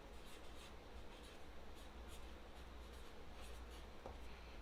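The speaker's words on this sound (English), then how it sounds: "I think the one that I'm going to write on my rock is be kind." A marker or pen writing on a painted rock: soft, steady scratchy rubbing strokes, faint and close, with no voices.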